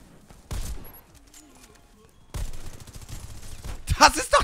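Pistol shots from a Warface team deathmatch on the Motel map ring out as a quick burst of sharp reports late on, after an earlier loud hit and some quieter game noise in between.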